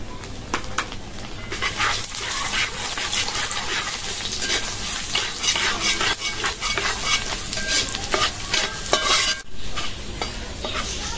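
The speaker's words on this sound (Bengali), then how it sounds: "রসুন মরিচ ভাজা হয়ে গেছে" Garlic, dried chillies, bay leaf and cumin fry in hot oil in a kadai, a steady close sizzle with stirring scrapes throughout and no talking.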